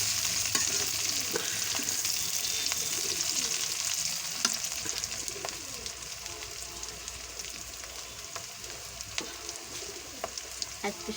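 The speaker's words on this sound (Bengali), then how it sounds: "আসলে আমরা মাটির চুলায় রান্না করতে পছন্দ করি," Meat khichuri cooking over a clay stove: continuous close frying sizzle with repeated scraping stirs and small clicks throughout, evenly loud with no talk.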